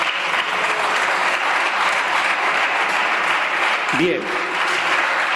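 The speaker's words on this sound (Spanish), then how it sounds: "Aquí aplauden" Deputies clap in the Spanish Congress, a continuous, loud burst of applause filling the chamber, with a single short spoken word cutting through near the four-second mark.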